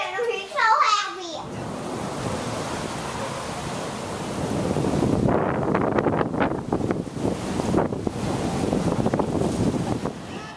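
Wind buffets the microphone outdoors on a windy, rainy day near water, a broad rumbling roar that swells in gusts, briefly preceded by a voice and with faint talk underneath.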